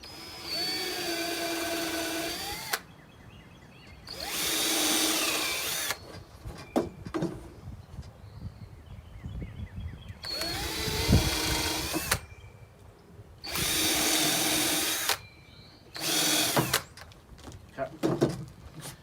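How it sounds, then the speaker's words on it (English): Bursts of power drilling with a countersink bit into a wooden bird feeder, several whirring runs of a few seconds each, close by, with clatter and handling noise between them. "we're going to drill our holes with our countersinking bit"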